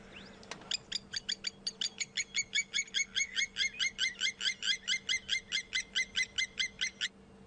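Repeated calls of a lapwing play back from a recording at an African waterhole, a steady rapid series of sharp, bright piping notes lasting several seconds, close and clear over a faint low hum.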